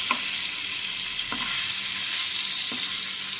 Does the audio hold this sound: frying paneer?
yes